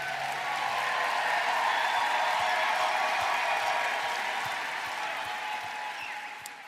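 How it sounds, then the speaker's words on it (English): Applause for graduates at a virtual commencement, a steady broadband wash of many hands clapping that holds level for several seconds and then eases slightly toward the end, with no talk over it. "Let's give another round of applause to all of our graduates."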